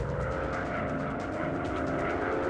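Steady, dense engine roar of a warplane going down in an aerial combat video game, loud and unbroken throughout with no voices.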